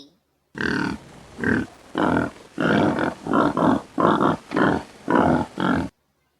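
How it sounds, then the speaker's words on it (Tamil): A wild boar grunts in a run of about nine loud, close, evenly spaced bursts, each a harsh, throaty snort separated by brief pauses. "காட்டுப்பன்றி"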